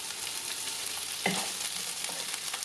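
Sausages sizzle in hot olive oil in a pan, giving a steady, close hiss with a brief louder crackle as they settle into the oil, and no talking.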